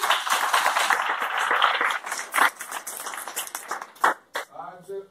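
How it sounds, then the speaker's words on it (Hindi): Audience at a business seminar claps, a burst of close hand claps that thins out and ends, with a voice speaking briefly at the close. "जोरदार तालियां भाई साहब"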